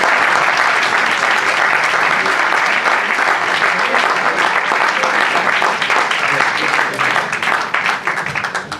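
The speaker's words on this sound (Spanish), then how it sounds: "Un aplauso, ¿no?" Steady, dense applause from a large audience at a theology talk fills the whole stretch, loud and continuous, tapering slightly at the very end.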